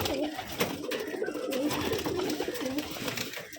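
Gerebaj flying-breed pigeons coo steadily in a Rajshahi pigeon farm, a dense, continuous murmur of overlapping calls from several birds at close range, with no pause throughout.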